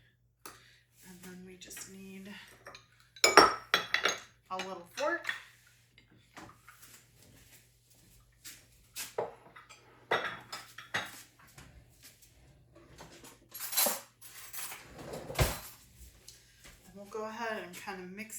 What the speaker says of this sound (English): kind of mix that flour up with our seasonings